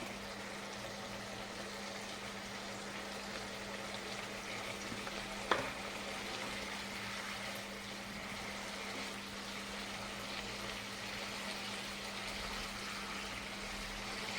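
Pieces of katla fish sizzle in hot oil in a pan, a steady, even frying hiss that runs throughout with a faint low hum beneath and one brief sharp clink near the middle.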